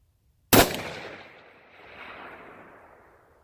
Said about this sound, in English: I'm going to attempt my fourth and final shot at 200 yards with the shadowtech hog saddle